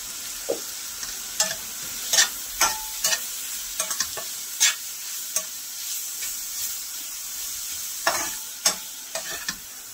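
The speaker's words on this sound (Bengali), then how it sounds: "কম তেলের মধ্যে মশলাগুলো আমি ভেজে নিলাম পেঁয়াজ আদা রসুনের সাথে।" Spices fry in a little oil with onion, ginger and garlic for a pomfret masala curry: a quiet low sizzle punctuated by scattered spatula scrapes and crisp pops, close by with no speech.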